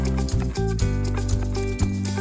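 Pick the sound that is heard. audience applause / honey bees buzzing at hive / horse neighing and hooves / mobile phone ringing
horse neighing and hooves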